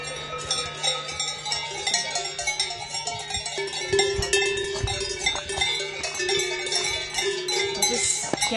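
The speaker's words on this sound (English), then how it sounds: "Every cow has a bell. They're all different sizes and shapes, and they're ringing through all of the valley here, all of the Alps." Cowbells of many different sizes and shapes ring on cows across an alpine valley in Gimmelwald, Switzerland, a dense, continuous jangle of overlapping clanks near and far with no talking.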